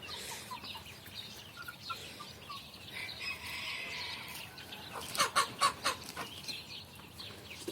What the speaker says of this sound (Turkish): Bu iki horozumuz ötüyor.